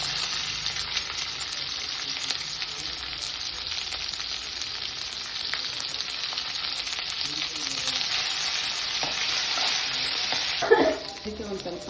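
Chopped green chillies and ginger paste fry in oil in a pan with a steady, bright sizzle and crackle. A brief clatter of stirring comes near the end, and no one speaks.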